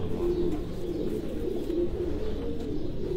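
Farran pigeons at a Gujrat pigeon tournament coo repeatedly in low, throaty rolling calls over several seconds, close by, with a steady hum underneath and no one speaking.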